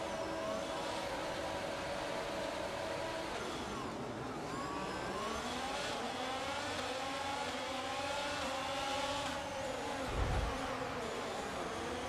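A pack of Formula 1 cars in F1 22 at Monaco pulling away from a standing start, dense whining engine tones rising and falling through the gears, loud and continuous, with a short thump near the end.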